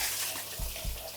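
Warm water runs from a tap into a grooming bath while a large Groodle dog is rinsed, a steady rushing hiss with a couple of low splashes, close and alone.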